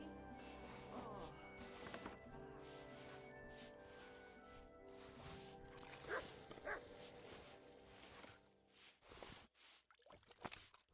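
A dog in the video game Kingdom Come Deliverance 2 makes soft yips and whimpers, faint and intermittent under a steady background hum of game ambience.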